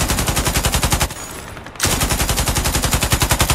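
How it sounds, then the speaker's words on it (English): Rapid, sustained machine gun fire in the video game Warbox, loud and close, with a brief lull in the middle before the bursts resume. "Why did I run right into gunfire?"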